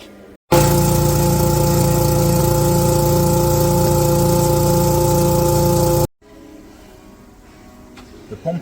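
Petrol engine on a mobile vacuum tanker pump running at a steady, loud drone for about five and a half seconds, then cutting off abruptly to quieter background noise.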